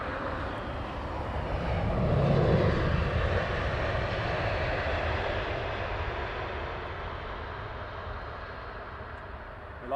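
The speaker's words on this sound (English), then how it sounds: "First arrival, BA Dreamliner." A British Airways Dreamliner arriving at London Heathrow gives a steady, broad jet roar that swells around the middle of the clip and then slowly fades while staying loud throughout.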